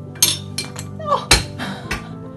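A spoon drops and clinks sharply against a hard surface, one loud bright clatter among a few lighter taps and knocks, with a person talking nearby.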